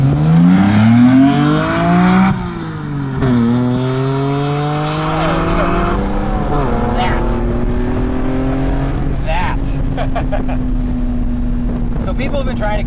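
A BMW M Roadster's inline-six engine, driven top down, revs hard through several gear changes, each rising whine dropping at the shift, then settles into a steady cruise, loud and close under wind noise.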